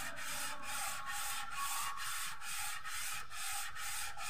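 Sandpaper rubs by hand across a Gran Max cylinder head in steady back-and-forth strokes, roughly two per second, a close, even scraping rhythm with no talk.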